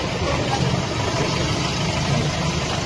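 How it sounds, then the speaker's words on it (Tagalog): A car engine idles steadily and close by, a continuous low rumble with no revving and no voices over it. "Ang layo na ni PRD, naririnig pa yung makina."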